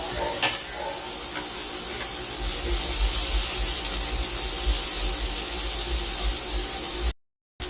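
Onion, ginger, green chilli and curry leaves sauté in hot oil with a loud, even hiss and faint stirring, then the sound cuts off abruptly just before the end.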